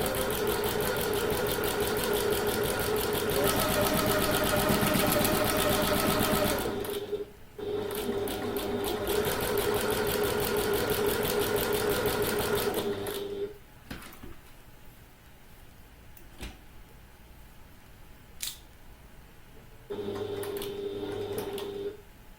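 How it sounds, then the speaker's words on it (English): A sewing machine stitches around a handbag box in long, steady, rapid runs of close mechanical whirring, stopping twice for pauses with faint clicks before starting again briefly. "And I'm going to sew on the line all the way around the box"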